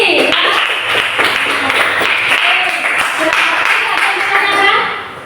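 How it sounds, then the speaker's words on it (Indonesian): Classroom applause from a group of students, a dense patter of clapping sustained for about five seconds under some faint voices, fading at the end. "Oke, tepuk tangan untuk Indi."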